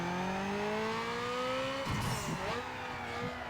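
A Lexus IS300 3.0L inline-six in Need for Speed Underground 2 revs hard on a dyno, a steady climbing engine whine that dips sharply at a gear change and climbs again, loud and continuous with no voices.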